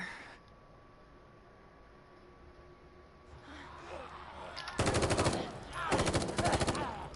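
Rapid bursts of automatic gunfire in The Evil Within 2, two loud sustained volleys of rattling shots in the second half, following a quieter stretch of ambient game noise.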